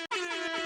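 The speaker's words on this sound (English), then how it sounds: "Air horn again." A single loud, brassy air horn blast follows a tiny gap, held steady for under a second.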